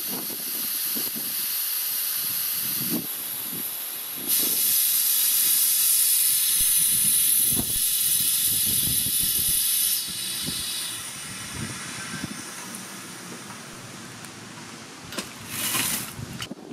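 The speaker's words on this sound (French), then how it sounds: "Et là, c'est en train de descendre tout doucement. J'ai ouvert l'air très doucement." A VEVOR 3-ton pneumatic jack lowers as its air is slowly let out, giving a steady, fairly loud hiss that swells midway and fades, with a few clanks and a brief louder burst near the end.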